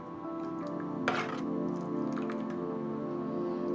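A spoon stirs a thin sweet rassa mixture in a metal pot, faint soft scraping with a few light clinks against the sides over a steady low background hum.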